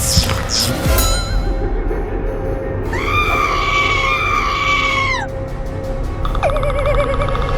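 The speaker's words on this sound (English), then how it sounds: "Why are you screaming so loudly all of a sudden?" A cartoon hamster character gives shrill, wavering screams that rise and fall in several bursts, loud and close, against a busy background.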